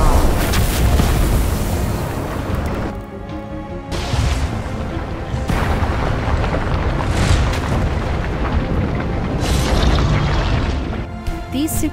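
Meteors crash down and explode in an animated dinosaur battle cartoon, loud repeated booms and rumbling blasts across the whole stretch, with brief quieter gaps between impacts.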